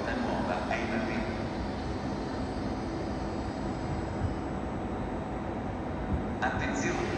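A train arriving at Roma Termini railway station in Rome, heard as a steady, loud rumble of rolling stock filling the platform. Brief squeals ring out near the start and end, and a background voice carries over the station noise.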